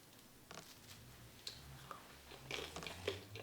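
Someone bites into and chews crunchy-crusted homemade no-knead bread, giving soft, close, irregular crackles and crunches at a low level over about three seconds.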